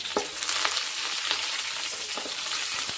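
Curry leaves, green chili and coriander frying in a pan of oil, a soft steady sizzle with faint scattered crackles and pops, fairly quiet and close, with no talking.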